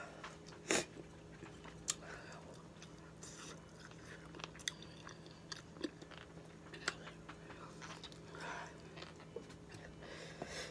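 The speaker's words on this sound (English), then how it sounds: "you ain't chewing?" Someone chews spicy green-lipped mussels close to the microphone: soft, moist bites and crunches repeat irregularly over a quiet, steady background hum.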